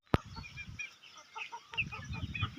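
Two-month-old chicks cluck and peep at close range, with a sharp knock at the start and short, scattered calls overlapping one another.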